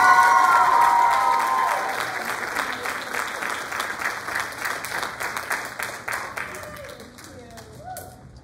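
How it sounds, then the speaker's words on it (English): A theater audience at a student choreography dance show claps in a loud, dense burst that gradually thins and fades, with some cheering early on and a few scattered claps at the end. "We have then one more round of applause, yes."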